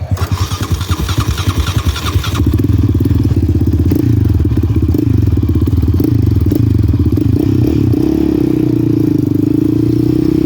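Yamaha Raptor 700R quad roaring close and loud under throttle, the engine note rising and shifting steadily while riding over bumpy whoops.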